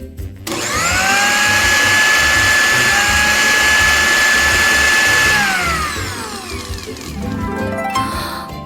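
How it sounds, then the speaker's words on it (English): A loud blender motor whines steadily at high speed for several seconds while grinding nuts, then winds down before a shorter, rougher burst of grinding. "I'll put the nuts in a blender and see what happens."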